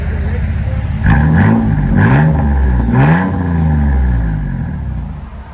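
A 2000 Chevy S10 Xtreme V6 pickup with dual Flowmaster Super 10 exhaust and a large catalytic converter revs several times in quick succession, a deep throaty rumble swelling and settling, with a voice speaking over it.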